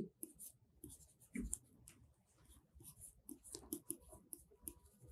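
Chalk or marker scratches and taps on a board during a basic electricity lecture, quiet and intermittent, in short strokes and clicks with pauses between them and no speech.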